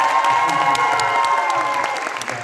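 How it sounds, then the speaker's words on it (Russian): An audience at a closing ceremony of a film program claps and cheers in a steady, dense burst. Scattered whoops rise over the continuous applause, which stays loud throughout and tapers slightly at the end. "Пожалуйста, аплодируем ему."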